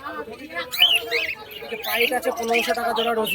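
Pigeons at the Krishnanagar pigeon market in West Bengal: busy chirps and calls mixed with nearby voices of traders and buyers, all close and fairly dense.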